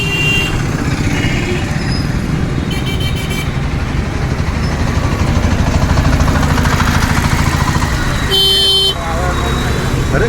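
Busy traffic noise in Jagannath Puri with engines rumbling and a short, loud horn blast near the end, plus a brief toot earlier.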